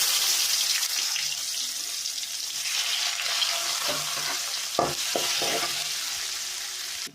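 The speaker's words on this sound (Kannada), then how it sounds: "ಎಣ್ಣೆ ಕಾಯ್ದಾಯ್ಬಕ್ಕ ನೀರುಳ್ಳಿ ಕಾಯಾವಡು" Onions fry in hot oil with mustard seeds, a steady hiss with a few scraping stirs near the end, close and moderately loud.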